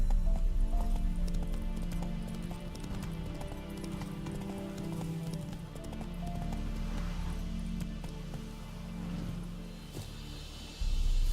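A horse galloping in The Witcher 3: Wild Hunt, with steady rhythmic hoof clip-clops over a continuous low rumble of game ambience, sustained for the whole stretch.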